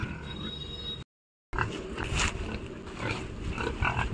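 Pig grunting and snuffling in a pen during cleaning, close and fairly loud, with scattered rough grunts and clattering after a brief dropout.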